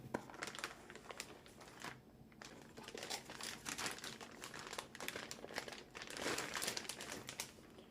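Plastic and paper packaging crinkling and rustling as a computer motherboard is unboxed, close and quiet, with irregular crackles and handling noises throughout.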